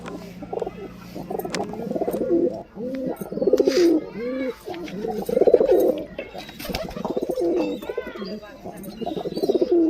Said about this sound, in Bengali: দুটো ঝুটি পায়রা, খালি কোয়ালিটি দেখেন।